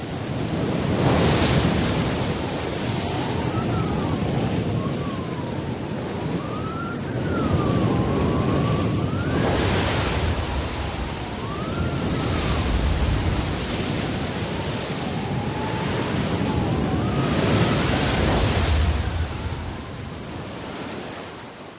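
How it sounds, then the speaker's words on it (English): Full-force hurricane wind howling over heavy seas in the Antarctic region, a loud, unbroken roar of gusts and crashing waves with rising and falling whistling tones throughout. "Not merely a gale, but a full-force hurricane."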